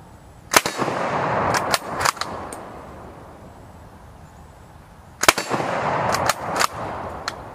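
A 7.35 Carcano rifle fired outdoors: sharp, loud gunshots in two bursts, each with several cracks and echoing tails, separated by a few quiet seconds.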